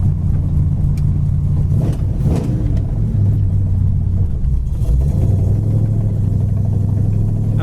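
A 1968 Dodge Coronet 500 with a 440 V8 idles nearby, a deep steady rumble holding throughout with a slight swell in the middle.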